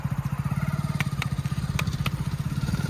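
A motorcycle engine running close by with a steady, rapid low thumping pulse, with a few sharp clicks over it.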